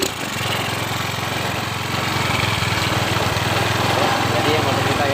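A Honda Beat scooter engine, converted from fuel injection to a carburetor, runs steadily at close range with a loud, continuous buzzing drone that rises slightly toward the end.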